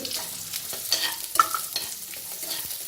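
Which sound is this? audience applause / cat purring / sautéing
sautéing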